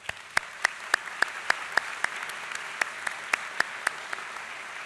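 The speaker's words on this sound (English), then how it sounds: "Please give a round of applause for our donors." Applause for donors at a university third-year ceremony, a soft spread of distant crowd clapping with a string of louder, evenly spaced claps from someone close by standing out above it.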